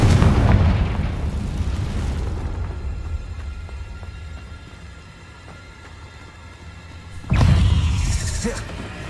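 Confringo fire spell explosion in the game Hogwarts Legacy, a loud booming blast that decays into a fading rumbling tail, followed by a second strong burst near the end.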